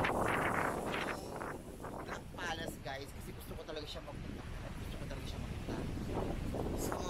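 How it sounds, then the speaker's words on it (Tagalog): Strong wind gusts across an open terrace at a palace, a steady roaring buffet of noise with a person talking over it throughout. "Kaya sobrang lakas ng hangin."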